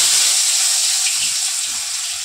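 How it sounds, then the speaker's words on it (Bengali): Potatoes frying in hot oil, a loud, steady, close hiss with no breaks for the whole moment, no talking. "চলো, গরম হয়ে গেছে, আলুগুলো ভেজে নিই।"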